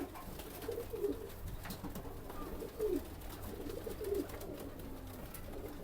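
Pigeons of the Kamagar, Sialkoti and Teddy breeds coo softly in a high-flyer loft, three short cooing bursts rising over a quiet background hum.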